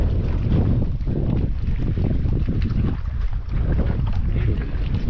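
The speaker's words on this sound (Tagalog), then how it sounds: "ito na yung bangka oh" A small fishing boat moving on open water, heard as a loud, steady rush of water and wind noise buffeting close to the microphone, with no talk.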